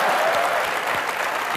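A studio audience on a comedy talk show applauds: dense, steady clapping that fills the whole moment at an even, loud level with no voices on top.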